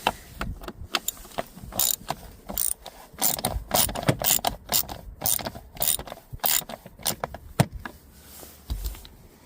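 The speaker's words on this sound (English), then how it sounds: "To remove that screw, you'll have to use a Torx bit number 20" A Torx 20 bit turning a screw out of a plastic track trim panel on a Dodge Grand Caravan driver seat, with a run of quick ratcheting clicks in irregular bursts, close and moderately loud.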